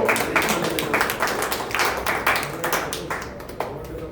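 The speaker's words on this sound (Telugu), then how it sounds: "చెప్పండి చప్పట్లతో" An audience at a mass leadership training session clapping in scattered, uneven bursts, moderately loud and close, with some voices mixed in.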